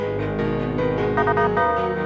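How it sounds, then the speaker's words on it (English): A stuttered bell one-shot in a music production melody: rapid repeated bell hits over a dense, sustained, loud synth and bass bed, with no talking. "Let's just do a bell stutter."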